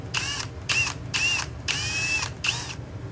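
A drill bit bores a divot into a Honda B20 oil dipstick tube in five short whirring bursts, each with a rising metallic whine and brief pauses between, close and fairly loud.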